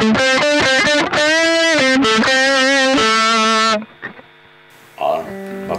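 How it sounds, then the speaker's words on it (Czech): Distorted electric guitar with a thick, saturated tone plays a string of loud sustained notes and chords for several seconds, then cuts out, leaving a low hum and a brief quieter strum near the end. "Když dáme distortion, to už bude takový šum slyšet."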